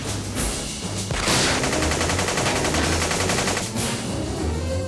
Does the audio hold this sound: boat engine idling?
no